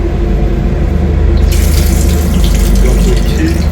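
Water runs steadily from a tap in a toilet aboard the Kamrup Express train, a continuous close splash over the low rumble and rhythmic clatter of the moving carriage.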